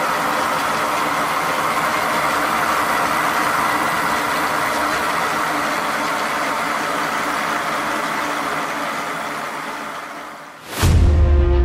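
A Searl effect magnetic generator spins up to speed, giving a steady, loud whirring hum that builds with no break, then cuts off abruptly near the end into a brief low thump.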